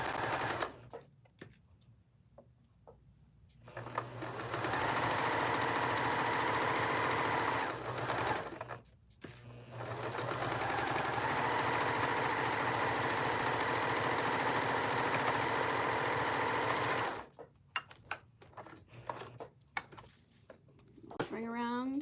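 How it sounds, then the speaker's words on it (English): A sewing machine runs close and steady as it top stitches around the edge of a blanket, two long continuous stretches of fast rhythmic whirring broken by a short pause, with quieter handling sounds before and after. "we are just going to top stitch right around the edge"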